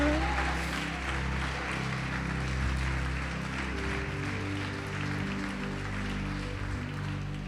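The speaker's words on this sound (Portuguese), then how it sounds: "Pode aplaudir, adorar e glorificar." Congregation applauding during a church worship service, a steady wash of clapping spread through the room over a sustained low keyboard or organ drone that continues throughout.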